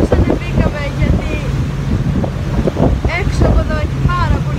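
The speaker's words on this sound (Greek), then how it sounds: "τώρα είμαστε μέσα στο καραβάκι και κάνουμε όλο το tour της λίμνη Κόμο" Wind buffets the microphone aboard a small tour boat on Lake Como, with a steady low engine rumble beneath and voices talking over it throughout.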